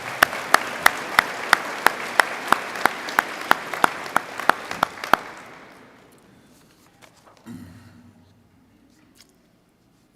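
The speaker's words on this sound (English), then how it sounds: "I think we should all just give them a round of applause for everything they do for all of us." Audience applause at the Haliburton Highlands Sports Hall of Fame 2024 induction ceremony, with sharp, evenly spaced claps standing out over a softer crowd wash for about five seconds before it fades to near quiet.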